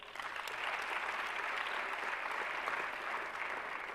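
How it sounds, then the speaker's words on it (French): Sustained applause from a conference audience at an award ceremony honouring a pharmacy network founder, a dense steady clatter of many hands clapping throughout, fairly loud and unbroken with no talk. "Je vous demande de l'applaudir."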